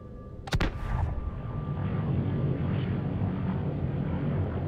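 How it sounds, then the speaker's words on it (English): A torpedo fires in the underwater game Subnautica, a sharp loud burst near the start followed by a rushing, churning whoosh that continues steadily to the end. "Hey, how about one of these guys?"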